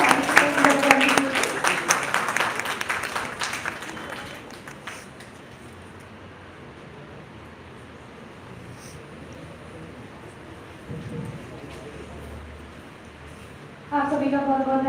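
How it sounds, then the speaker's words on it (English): At an institute event in Janakpuri, Delhi, an audience applauds the participants, the clapping loudest at the start under a speaking voice, then tapering off into near silence before talk resumes. "Can we please again have a huge round of applause for all the participants that contributed?"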